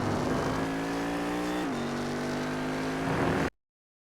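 Cadillac CTS-V at full throttle on the Navarra race track, a loud close engine roar climbing steadily with a brief dip mid-way, then cutting off abruptly near the end.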